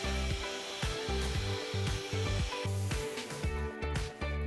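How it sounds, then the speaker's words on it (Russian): A construction heat gun warms a foam board wall inside a python terrarium build, a steady close blowing whir with slight pitch shifts as it moves. "С помощью строительного фена аккуратно прогреем стену, чтобы пеноплекс слегка расплавился."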